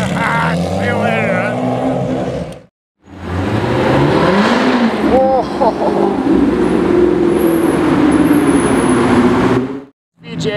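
Lamborghini Huracan Performante and Huracan supercars revving and accelerating away at a car event, loud rising and falling engine notes close by, with excited voices talking over them.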